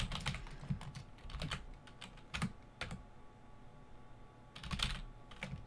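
Clicks from a computer keyboard being typed on at a desk, arriving in quick bursts with short pauses between them, close and fairly quiet.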